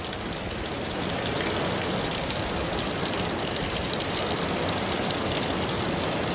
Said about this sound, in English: we've got some decent rain going on